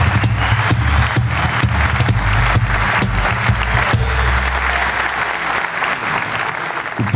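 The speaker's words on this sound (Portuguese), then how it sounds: "eu quero um aplauso bem mais forte para o Ruizinho." Loud, sustained audience applause fills a comedy roast hall, dense clapping continuing steadily for several seconds with some crowd noise mixed in, tapering slightly toward the end.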